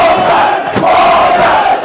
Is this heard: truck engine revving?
no